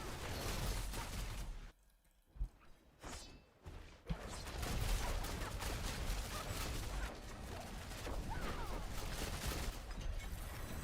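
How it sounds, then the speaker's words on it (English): A Rogue firing the Penetrating Shot skill in Diablo 4: dense, rapid bursts of shots and whooshing releases pile up over loud game noise, with a brief near-silent gap before the volley resumes continuously. "This is penetrating shots"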